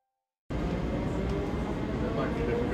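A metro train near the Slivnitsa stop rumbles steadily, a dense, loud, even roar that starts suddenly after half a second of silence and continues without a break.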